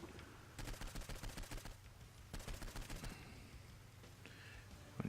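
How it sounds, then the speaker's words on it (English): SMG fire in Saints Row IV, heard as two quick, even bursts of rapid automatic shots over a low background rumble, fairly faint, with scattered game sounds after them. "Let's use the SMG."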